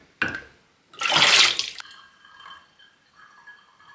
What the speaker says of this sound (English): I'm actually gonna pour it into those spare jars that I have